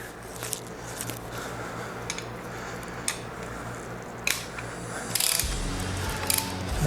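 A torque wrench set to 50 foot-pounds ratchets steadily on the center stand bolts of a 2022 Harley Road Glide ST, a continuous close mechanical clicking with a few sharper clacks and a heavier stretch near the end.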